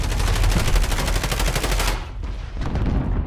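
Rapid automatic gunfire in Call of Duty: Modern Warfare during an online multiplayer match: a loud, fast stream of shots for about two seconds, then a few scattered quieter bursts.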